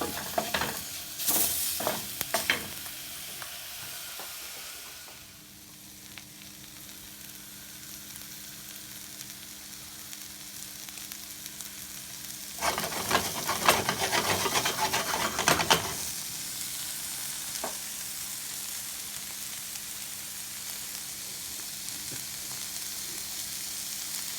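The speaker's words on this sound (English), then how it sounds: "And we're going to fry that for a while." Onions fry in a pan for a turkey testicle stew: a soft close sizzle opens, fades to a quiet hum, then swells into a louder crackling burst for a few seconds before settling again, with no voices.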